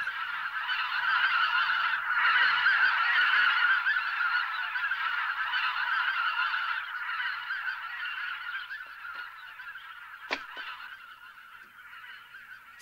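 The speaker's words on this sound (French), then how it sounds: "tu as vu tous ces oiseaux? Ce sont des oiseaux migrateurs." A dense flock of migratory geese in a cartoon honks continuously, loud and close at first, then gradually thinning and fading, with a brief sharp click near the end.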